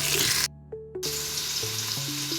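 Onion, garlic and ginger fry in oil on high heat, a steady sizzle broken by a short hush, with faint tonal kitchen clinks and hums running underneath.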